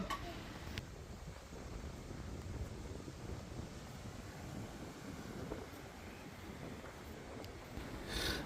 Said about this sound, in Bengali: দেখেন অনেক প্রচণ্ড বাতাস